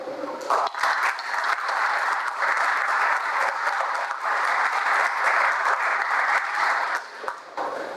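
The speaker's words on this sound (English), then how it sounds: "Let's give ourselves a round of applause for what we have done" A round of applause fills an annual meeting of a local League of Women Voters chapter, steady crowd clapping that holds evenly for several seconds before thinning slightly.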